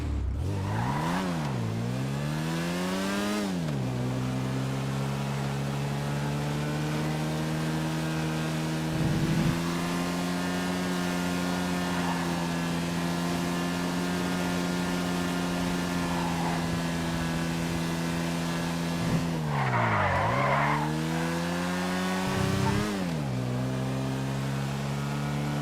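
A Nagasaki Outlaw off-road car in a driving game revs hard with rising and falling engine pitch, shifting through gears, then holds a steady drone before another burst of acceleration, alone and up close.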